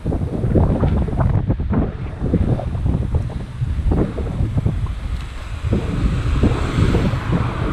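Steady wind buffeting the microphone while riding a bike through the main street of Gela, Sicily, a loud continuous rushing roar with gusty low rumble throughout, no talking.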